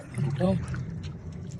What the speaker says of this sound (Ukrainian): Протитечія створює такий досить потужний е, потік води